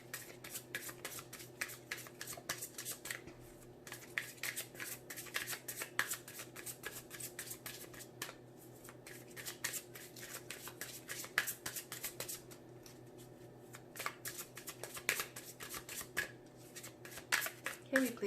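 Tarot cards being shuffled by hand, a rapid run of crisp riffling and flicking that repeats in bursts, fairly close and quiet, with a voice talking over it.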